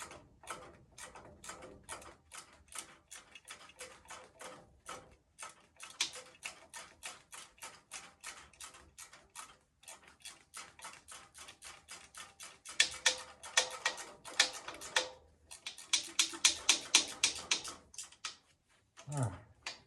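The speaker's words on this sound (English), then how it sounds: "whoever came up with these ratcheting wrenches, man, they had a great idea" A ratcheting wrench clicks in rapid, close runs of tiny ticks that speed up and slow down in bursts, working on a Farmall tractor. The clicks pause briefly, then return louder near the end.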